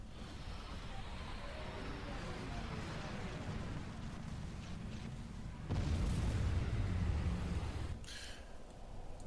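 Scorch bombs detonating against shields in the real-time strategy game Supreme Commander 2, a rolling barrage of heavy booms that swells into a louder burst midway, then fades into a sharp crackling blast.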